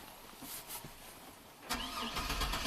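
A GMC Sonoma engine cranking without catching, a faint rhythmic churning that swells into a louder starter whir partway through, heard close with no voices.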